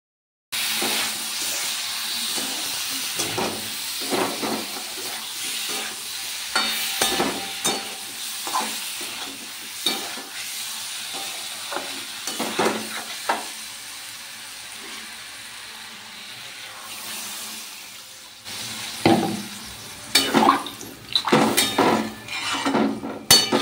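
Whole cumin seeds frying in hot oil for a paneer dish, with intermittent sizzling bursts and the clink and scrape of stirring in the pan, growing busier toward the end.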